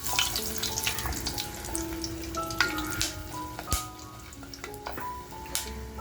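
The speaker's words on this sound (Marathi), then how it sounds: "बघा, आपलं तेल आहे ना छान असं तापलेलं आहे. तर आपण अगोदर आहे ना फोडणीला जे घेतलंय ते साहित्य टाकून घेऊया." Whole spices for tempering sizzle and crackle in hot oil on a low gas flame, the first step of a mutton masala; a steady frying hiss runs throughout, broken by sharp pops and spits, close up with no talking.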